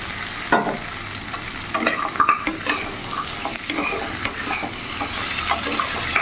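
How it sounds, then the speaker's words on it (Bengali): Chopped tomato sizzles in hot oil in a frying pan on a medium gas flame while being stirred, with a steady fry broken by scraping and clinking stirs of the spoon against the pan. "এখন এর মধ্যে কেটে রাখা টমেটো আমি দিয়ে দেবো।"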